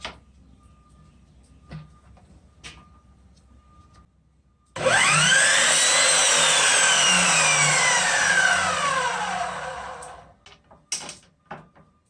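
A power saw cuts a window grid piece to length, starting abruptly and running loud and steady for about five seconds with a sweeping pitch as the blade bites, then winding down, framed by light handling clatter before and after.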